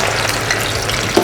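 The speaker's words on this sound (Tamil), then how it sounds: "இப்போ நம்ம இந்த வெண்டைக்காயை எடுத்து பொரிப்போம்." Okra (bhindi) sizzles as it fries in hot oil, a steady, close crackle and hiss with a brief stir near the end.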